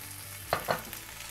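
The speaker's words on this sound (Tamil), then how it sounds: "இப்போ இந்த தக்காளி வந்து நல்லா ஜூஸியாக நம்மளுக்கு நல்ல ஒரு தொக்கு மாதிரி கிடைக்கிற அளவுக்கு நம்ம இதை நல்லா வதக்கிடலாம்." Chopped tomatoes and onions are stirred in a hot pan, with two quick spatula scrapes over a faint, steady sizzle and no talking.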